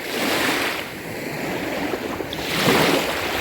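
Black Sea waves washing onto the beach at Odesa on a foggy spring day, a near, continuous surf wash that swells and recedes, rising again toward the end, with no voices.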